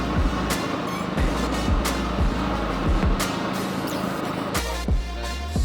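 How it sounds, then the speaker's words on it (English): A Basin 6x6 vehicle idles after a push-button start, a steady low engine rumble with repeated deep pulsing throbs, close and loud with no talking. "Now we could hit the button and see if this thing runs."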